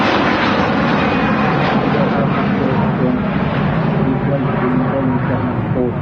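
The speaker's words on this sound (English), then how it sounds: "Rolls-Royce Trent 700s blasting off 2-3 right at Manchester" Rolls-Royce Trent 700 engines on a Virgin Atlantic Airbus A330-300 take off at Manchester Airport, a loud, continuous roar that stays close and powerful throughout.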